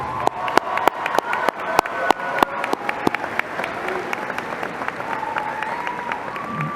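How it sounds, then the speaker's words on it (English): Graduation guests for the Eastmont Class of 2025 clap in a loose, uneven round of applause, with sharp individual claps standing out above the crowd and a low hum of voices. "Let's give them another round of applause."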